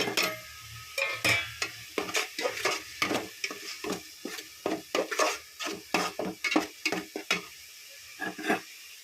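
Masala for a fish curry frying in oil in a pan, stirred with a steady series of scraping, clattering strokes over a soft sizzle, close and fairly loud with no talk.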